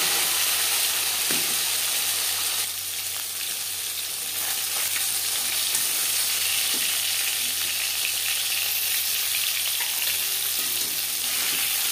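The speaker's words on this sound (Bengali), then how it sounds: "একটা সাইড ভাজা হয়ে গেলে অপর সাইডটা উল্টে দেবো।" Silver carp pieces fry in hot oil with a steady, close sizzle, sharpened by brief bursts as the fish is flipped over in the pan.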